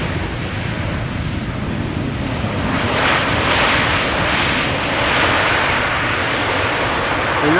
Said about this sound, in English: A nice wheelie by the pilot flying of KLM flight 592.